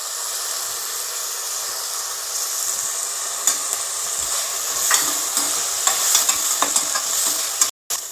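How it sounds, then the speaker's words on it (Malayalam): Curry leaves hit hot oil in a pan for a Kerala-style prawn roast, giving a steady close sizzle and hiss with scattered sharper pops and crackles. "ഇനി നമുക്കതിലേക്ക് കറിവേപ്പില ഇടാം."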